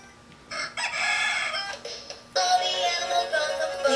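Electronic rooster crow from a LeapFrog farm toy, a couple of bright, slightly tinny cock-a-doodle-doo calls played back close by with no talking.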